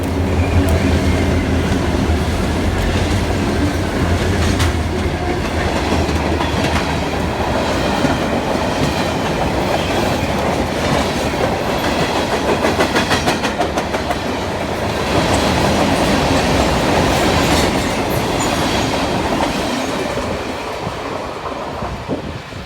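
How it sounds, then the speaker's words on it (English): A freight train led by RCP&E locomotive 3433 rolls past close by through Brookings, South Dakota, loud and continuous, with rhythmic clacking of wheels over rail joints and occasional metallic squeals. "old freight train being led by RCP&E 3433 was rolling down the tracks through Brookings"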